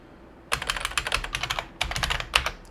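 Rapid keystrokes on a computer keyboard as a host name is typed in, two quick bursts of close, crisp clicks separated by a short pause, alone without speech.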